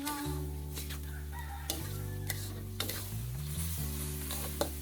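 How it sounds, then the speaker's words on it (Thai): Pork stir-fried with sweet dark soy sauce for lemongrass pork, with a continuous sizzle and occasional spatula clacks against the pan, under a steady mechanical hum from a nearby burner or fan. "แล้วก็ผัดทุกอย่างให้ละลายให้เข้ากันให้หมดเลยนะครับ"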